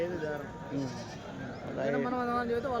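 Goats and sheep at the weekly Kadiri livestock market bleat several times in short, wavering cries, close by and mixed with people talking.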